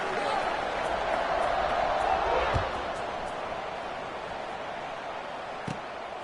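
Simulated stadium crowd at kickoff in the NCAA 26 football video game, a steady broad murmur and roar that swells slightly early on and then settles, with a couple of faint thumps.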